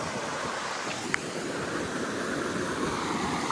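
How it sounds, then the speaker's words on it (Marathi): Water rushing at Dhamod dam near Kolhapur: a continuous broad hiss of flowing water, steady and fairly loud, with some wind rumble on the microphone and one brief click, no talk. "पाण्याचा आवाज तरी येत आहे गाईज."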